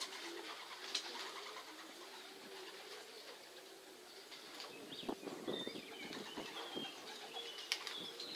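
Racing pigeons coo softly amid the rustle and flutter of birds nearby after a 583 km race, with faint chirps over a low steady background.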